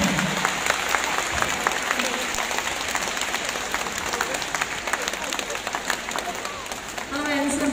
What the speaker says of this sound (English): this boy will not move even if all of you try clapping your hands.